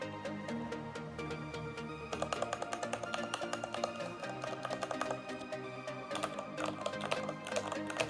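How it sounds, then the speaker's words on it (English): Rapid typing on a budget Porodo gaming keyboard with linear red mechanical switches, a close run of quick clacking keystrokes that grows denser and louder partway through, with no talking. "Now, we're going to do the keyboard sound test."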